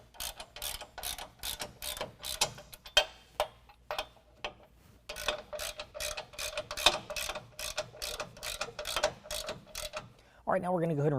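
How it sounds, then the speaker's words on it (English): Quick clicking ratchet strokes from a wrench tightening bumper bolts on a 2020 Ram pickup during a Ranch Hand Summit Series grille guard install, steady bursts of ticks, fairly faint and close. "we're going to use a 3/4 on the top and bottom with a 3/4 inch wrench on the opposite side"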